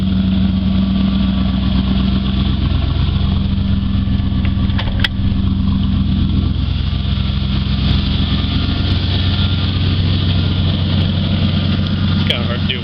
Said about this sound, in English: I don't even know if you guys can hear me over the exhaust right now.